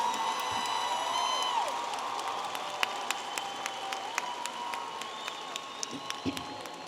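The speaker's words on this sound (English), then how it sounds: "a round of applause for the baccalaureate graduates from the A.R. Sanchez Jr. School of Business" Commencement crowd applauding business school graduates, steady clapping with cheers and whoops over it while high tones and a sliding whistle cut through.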